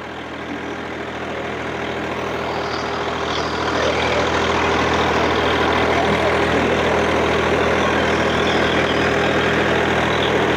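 A heavy tractor engine, a Swaraj 744 FE or Sonalika DI 745 III, runs steadily in third gear at 1600 RPM during a plough demonstration, its low rumble swelling slightly before holding a loud, even drone.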